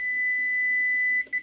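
A kitchen timer's steady, high electronic beep sounds for over a second while French toast casserole is prepared, then cuts off abruptly with a short clatter as it is switched off.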